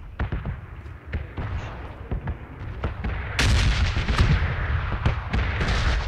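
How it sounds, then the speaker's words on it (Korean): Bombs from a red-zone bombardment in the PUBG video game fall and explode nearby, a rapid run of sharp, booming blasts and cracks that grows louder and denser halfway through, with no speech. "폭탄 떨어지는 것 같아."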